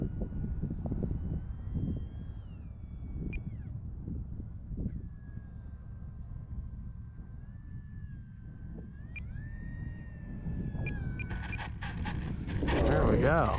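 An RC Tecnam 2010 model airplane flies over a grass field and clubhouse, its motor a thin distant whine that rises and falls with throttle changes over a steady low wind rumble.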